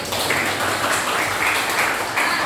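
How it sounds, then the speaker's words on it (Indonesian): Steady classroom applause for a student group, a dense continuous patter of many hands clapping at moderate loudness for a couple of seconds. "Baik, tepuk tangan untuk kelompok 1."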